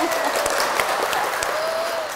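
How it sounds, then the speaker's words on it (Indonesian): Audience applause at an Islamic women's gathering, a brief burst of clapping from a crowd with some high tonal noise over it, fairly close. "tepuk tangan dong"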